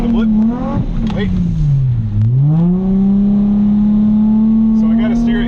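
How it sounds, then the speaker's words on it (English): A Nissan 350Z engine held at a steady drone while drifting, dipping in pitch and then rising again with a throttle blip before settling back to an even, loud hum, with someone talking over it. "Give it a blip, wait, balance it, throttle's nice and even again"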